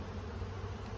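Honeybees buzzing around a busy beehive with heavy activity: a brief, steady, even hum of many wings, fairly soft and close.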